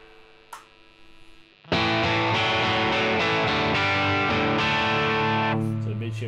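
An electric guitar plays through the dirty channel of a Koch Studiotone 20 head with a mid shift engaged, giving loud, sustained distorted chords that start after a brief quiet lead-in and ring out steadily to the end.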